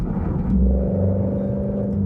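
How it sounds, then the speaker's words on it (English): A car engine idling with a low, steady rumble up close, rising slightly as it runs. "Let's go warm the car up just a little bit."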